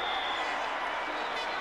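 Cricket crowd at Port of Spain in 2002 erupting as Sachin Tendulkar is given out: a dense, steady roar of many voices, loud and continuous throughout.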